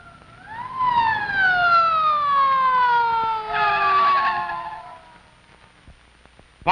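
An ambulance siren winds up and then slowly falls in pitch in one long wail, loud and close, fading out toward the end with no talk over it.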